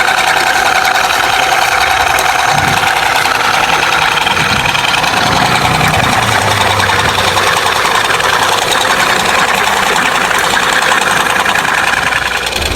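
A peanut butter grinding mill runs steadily, grinding peanuts into paste with a continuous mid-pitched motor drone and rough vibration that hold level and loud throughout, without pause.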